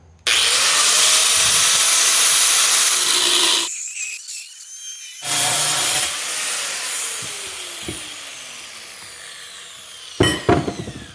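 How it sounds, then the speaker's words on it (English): An angle grinder cuts metal on a Geo Pro 19FD travel trailer with a loud, steady high-pitched grinding shriek, stops briefly, then resumes and winds down through a fading whine, close and without talk. "take our angle grinder, cut this thing off"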